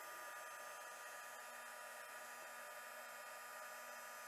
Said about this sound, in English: let the heat tool heat up a little bit, and then go over it